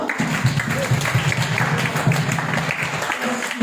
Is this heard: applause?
yes